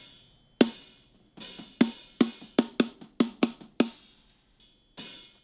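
Snare drum hit unevenly, some strikes full and some near the rim, with a fast irregular run of sharp cracks varying in loudness and tone and short gaps between the groups.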